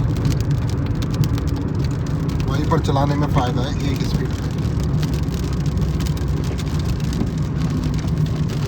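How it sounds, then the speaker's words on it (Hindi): Light rain patters steadily against a moving vehicle amid constant road rumble, with someone talking briefly over it. "लो जी, फाइनली बारिश भी स्टार्ट हो गई है। बूंदा बांदी"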